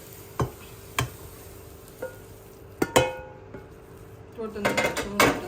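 Cooked prawn cutlet mixture of prawns and spices being scraped from a pan into a bowl, with sharp metallic spoon knocks and clinks against the vessels spaced a second or so apart, then a quick cluster of scraping taps near the end.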